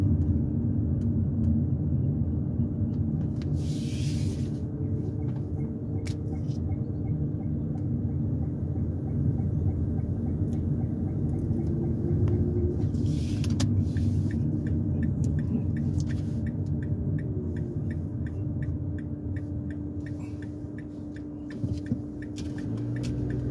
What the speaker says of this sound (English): I'm driving you around Poolesville Township.